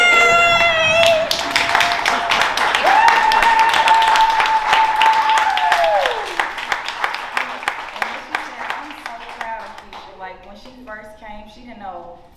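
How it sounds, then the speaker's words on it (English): A beauty and health expo audience applauds Keisha, a panel guest: loud, dense clapping dominates at first, while a voice speaks and sustains a tone over it, then the applause thins into scattered claps as the voice continues. "can we stand up and give Keisha a round of applause?"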